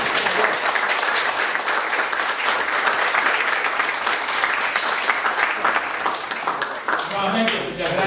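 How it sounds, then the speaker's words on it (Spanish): Audience applause at an actuarial-profession lecture: dense, steady clapping from a roomful of people, sustained for about eight seconds at even loudness before tapering slightly near the end. "entonces vamos a darle un aplauso"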